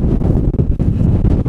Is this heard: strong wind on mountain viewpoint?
yes